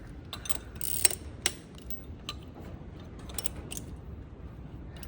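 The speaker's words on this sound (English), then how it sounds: "And now you're going to take your wrench and your ratchet" A wrench and ratchet tighten a nut on an exhaust manifold, giving a few sharp metallic clicks and clanks over a low background hum, close and moderately loud with no talking.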